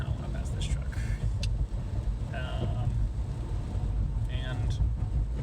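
A Chevy Volt cruises slowly down a highway behind a truck, its steady low road and tire rumble droning continuously throughout.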